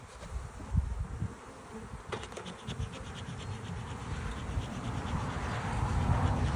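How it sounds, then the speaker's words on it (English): Honey bees buzz in dense, continuous swarm noise inside an opened hive during a nuc split, steady and close, with faint traffic rumble underneath and a few brief clicks and scrapes from handling. "Oh, there's plenty of bees in here."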